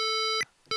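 Short electronic beeps from a Mr. Rags macro keyer, a steady pure tone with harmonics held for about 0.4 s, then a brief gap and a second shorter beep, clean and close with no talking.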